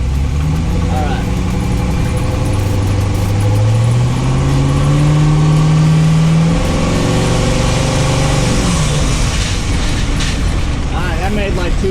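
A twin-turbo engine revving and building boost on a street, loud and close, with a rising, sustained engine drone that swells and falls as the revs climb, under a person talking.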